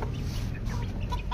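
A hen clucks and squawks in short, irregular bursts close by, over a dense background of low rumble and farmyard noise.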